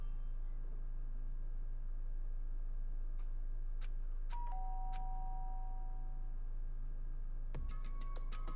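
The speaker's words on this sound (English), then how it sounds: "did I hear the doorbell?" Doorbell chime in the video game Danganronpa: Trigger Happy Havoc: a few clear high tones ringing over a steady low hum, followed by a brighter burst of chime tones near the end.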